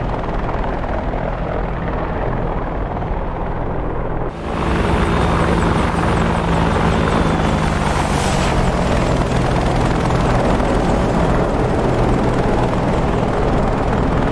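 An AH-64D Apache helicopter in the DCS World flight simulator roars past close and loud, its heavy rotor thump and turbine whine swelling sharply and then continuing steadily as it flies by.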